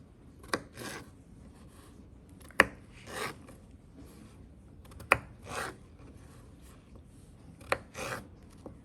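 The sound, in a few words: knife dicing potatoes on a flat surface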